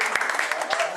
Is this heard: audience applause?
yes